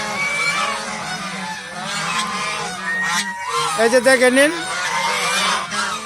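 A flock of geese sitting on eggs honks repeatedly, with a burst of quick, nasal calls near the end, while someone talks over them.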